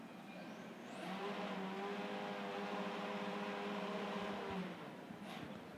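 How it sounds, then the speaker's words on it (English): F4 race car engines warm up at the Sepang circuit before a formation lap, a faint, distant, steady droning hum that swells and then eases slightly. "engines, and they begin this formation lap right now that will take them through this Sepang circuit"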